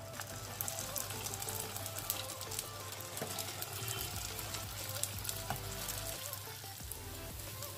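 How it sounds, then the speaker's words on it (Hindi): Aloo tikki potato patties fry in about a tablespoon of oil in a pan until golden on both sides, giving a steady, dense sizzle that crackles close and continuously from start to finish. "दोनों साइड्स पे अच्छा गोल्डन कलर आने तक के फ्राई करेंगे"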